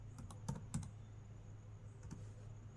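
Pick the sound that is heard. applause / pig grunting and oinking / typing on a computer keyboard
typing on a computer keyboard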